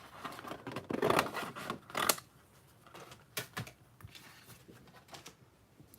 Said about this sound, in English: So I am just going to cut a piece here.